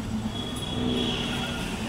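Steady low rumble of a train at Danshi railway station platform, a continuous close rolling drone holding level throughout with no break.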